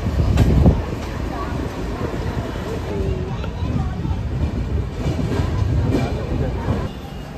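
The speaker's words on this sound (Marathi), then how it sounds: "ट्रेन प्लॅटफॉर्मवर आलेली आहे" A train rolling into Rajkot station along the platform gives a loud, continuous rumble with faint clatter, while someone speaks over it and people chatter in the background.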